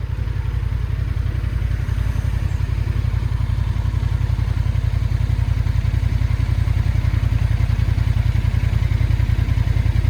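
A Honda Hornet 750 motorcycle engine drones at close range climbing a hill, with a steady, chugging low rumble, holding an even pull without revving.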